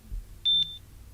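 Samsung Galaxy Watch chirp notification tone: a short, bright electronic chirp of two quick pulses joined by a thin sustained tone, clear and alone over faint room noise.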